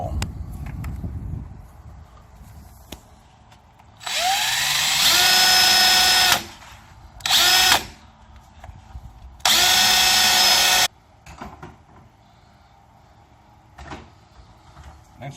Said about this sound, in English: Put it on the drill, and then we're going to drill a hole.